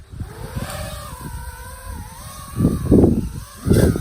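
Motors of an FPV racing drone spin up at a shooting range, a whining buzz that rises in pitch and swells into louder rough surges, close to the microphone with wind-like rumble.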